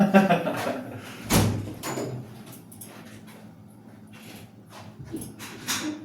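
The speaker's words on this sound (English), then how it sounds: "Door." A door opens or closes indoors with a couple of sharp knocks and thuds, close by, among people talking in a room.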